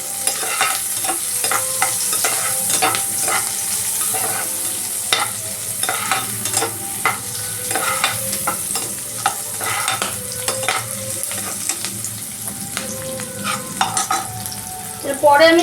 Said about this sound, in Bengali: এটা কিন্তু সতে হবে, সতে মানে একটু হালকা করে নাড়ানো হবে